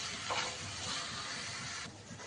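A paste of ground cumin, coriander and green and dried chili sizzles hard in a hot pan for a mutton keema ghugni, a steady close frying hiss with a brief scrape of stirring and no voices.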